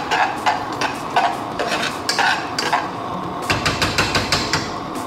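Instant packet mashed potatoes being whisked with milk in a bowl, a quick run of close, clattering metal taps and scrapes against the dish in uneven bursts, with no talking.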